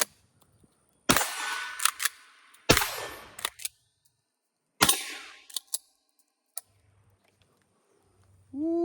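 An Akkar Churchill 620 shotgun fires buckshot three times, each a sharp, loud blast with a ringing tail and the clack of the action cycling, spaced a second or two apart outdoors.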